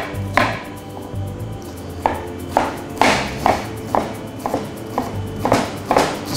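A halved, medium onion is minced very fine with a knife on a board, the blade tapping in a steady run of sharp, close chops with brief pauses, for an Azorean limpet dish.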